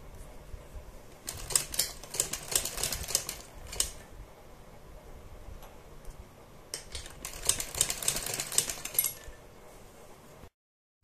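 A sewing machine stitching a neck design on fabric runs in two rapid mechanical rattling bursts separated by a short pause, close and steady, with no talking.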